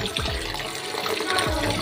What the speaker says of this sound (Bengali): তারপর আলুগুলো ধুয়ে নেব